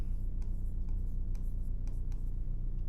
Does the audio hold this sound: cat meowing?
no